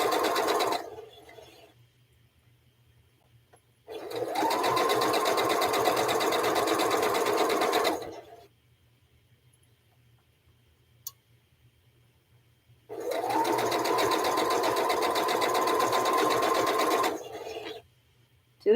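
A sewing machine runs in two long steady bursts, each lasting about four to five seconds, with quiet pauses between them, while stitching a three-strip quilt sashing with nine-patch cornerstones. The motor whirs close and even, with no talk.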